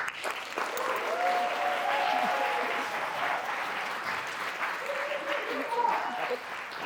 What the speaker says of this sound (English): please give a big round of applause for the brave first storyteller of the evening